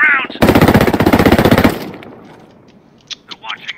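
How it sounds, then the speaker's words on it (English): Automatic gunfire in Ghost Recon Breakpoint rips out in a long loud burst of rapid shots, then cuts off into faint echoing ambience with a few short sharp sounds trailing after. "I hear gunfire."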